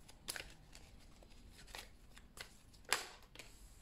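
Tarot cards shuffled in the hands, quiet soft riffling and flicking in short bursts with small gaps, close and faint with no talking.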